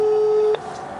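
A telephone tone sounds steadily for about half a second, then cuts off abruptly, leaving a faint hum, as a phone call is dialed.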